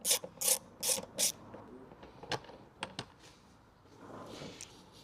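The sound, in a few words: Torx 30 driver undoing INEOS Grenadier roof rack bolts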